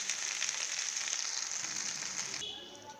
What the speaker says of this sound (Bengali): মাঝারি আঁচে বেশ মরমরা করে ভেজে